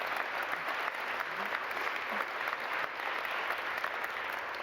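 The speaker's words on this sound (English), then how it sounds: "damn, applause break." Applause fills the House chamber, a dense and even wash of clapping from a large audience that holds steady for several seconds, heard from a distance.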